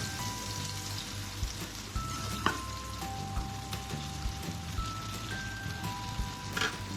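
Corn kernels sizzle after being added to a frying pan with aromatics and chicken cube, a soft steady frying hiss with faint clicks and stirring taps, quiet and close.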